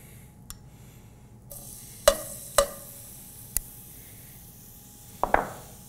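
Minced garlic in olive oil in a pan gives a quiet, steady sizzle, broken by several sharp clinks and scrapes of a spoon against the pan.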